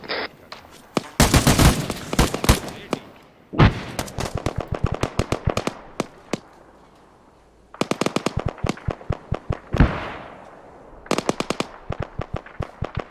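Rapid rifle fire from a British airborne section training in a forest in ArmA 3. Loud, close bursts of fast shots are broken by short pauses, with other shots scattered between the volleys.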